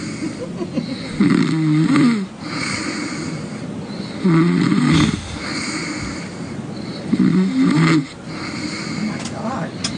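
A woman snores loudly through the night in three long, rattling, snorting breaths spaced a few seconds apart, close and harsh over a steady background hiss.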